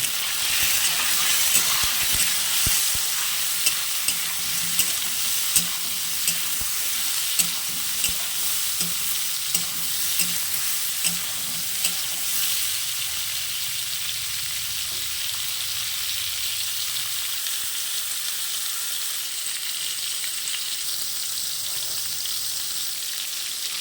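Pointed gourd frying in a pan with salt and turmeric, giving a steady close sizzle with a run of light stirring taps and clinks early on, then an even hiss alone.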